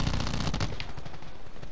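Rapid automatic gunfire in a Call of Duty: Black Ops 4 league Control match, a dense continuous rattle of shots, loud and close, fading slightly toward the end.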